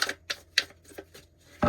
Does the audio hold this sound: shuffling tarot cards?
yes